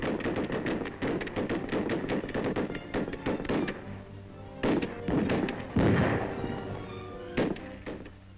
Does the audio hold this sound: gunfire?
yes